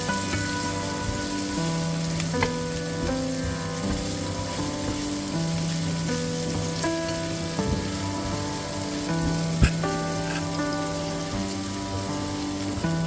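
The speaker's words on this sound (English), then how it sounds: "cook the onion for about 1 minute until the onion is nice and starting to smell good" Onion frying in a pan as the base for a coconut fish curry, a continuous rain-like hiss of sizzling oil held steady under gentle background music, with no talking.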